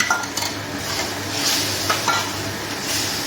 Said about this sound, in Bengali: আরও 2 মিনিট আমি ভেজে নেব এই টমেটোর পেস্টটা।